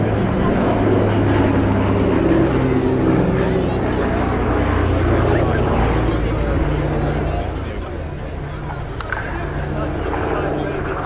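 Aircraft with wingtip floats flying past at the RAF Cosford airshow, a loud, sustained propeller-engine drone with a commentator's voice talking over it.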